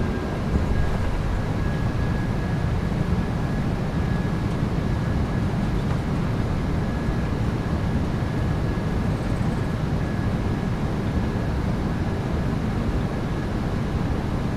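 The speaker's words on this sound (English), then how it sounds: "Reversers are out. Decelerating." PMDG 737-800 thrust reversers roar during landing rollout in the MSFS2024 flight simulator, a steady dense engine rumble with a faint thin whine, unchanging throughout, with no talking.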